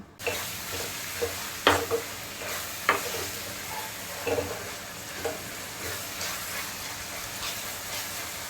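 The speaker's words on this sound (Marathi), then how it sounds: "कांदा आता आपण छान शिजवून घेणार आहोत" Chopped onion fries in a pan, a steady hiss of sizzling oil broken by several sharp scrapes and knocks of a spoon stirring, close and moderately loud with no voices.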